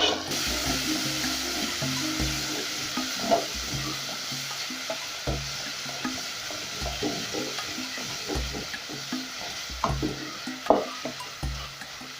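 Tomatoes softening in a covered pan for mchele waru vegetable rice with beef, giving a steady low sizzle with soft bubbling and occasional light clinks throughout, no voices.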